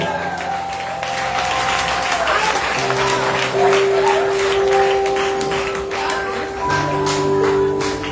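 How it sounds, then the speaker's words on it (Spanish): A congregation applauding continuously in a large church hall, dense clapping under sustained music or tones, fairly loud throughout. "denle palmas a Dios"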